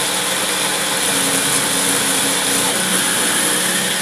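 A blender purees reaper peppers into juice with a loud, steady motor roar and whirring, close and unbroken throughout.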